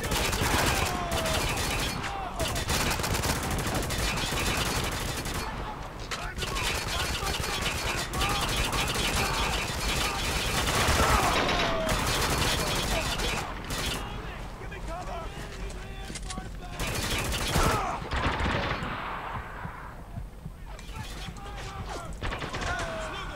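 Sustained gunfire and combat noise from the shooter Spec Ops: The Line rattles on almost continuously, loud and dense, with a player's voice talking over it.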